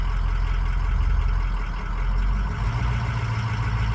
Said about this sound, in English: Sound like we got an exhaust leak.